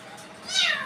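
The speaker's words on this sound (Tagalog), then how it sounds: "Ito naman dalawang pusa." A house cat gives one short, rising meow close by while pets are eating at feeding time.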